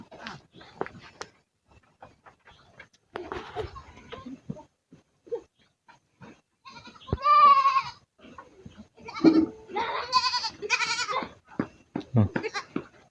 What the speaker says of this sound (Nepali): बाख्राको पाठा कराइरहेछ